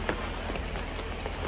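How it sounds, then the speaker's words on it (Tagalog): Steady rain pours outside a house in a rainy area, a dense, even hiss of drops hitting surfaces, loud and close with no break and no talk. "So, kung mapapansin niyo po, maulan sa lugar namin."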